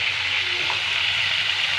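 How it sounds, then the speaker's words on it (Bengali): Chicken pieces frying in a pan of mixed mustard oil and white oil, giving a steady, even sizzle and hiss that holds close and constant throughout with no talk. "এবার চিকেনের পিসগুলো ভেজে নেব।"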